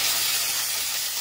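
Shrimp sizzling in a hot pan for a home-cooked dinner, a loud, steady hiss lasting a brief moment with nothing else heard.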